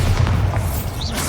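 Bombarda blasting spell from the Hogwarts Legacy video game, a single low, rumbling boom that goes off and sustains with a heavy bass body for about a second.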